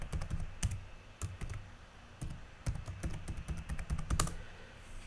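Keys tapped on a computer keyboard while entering a password, a quick uneven run of close, crisp clicks with brief pauses, alone and without talk.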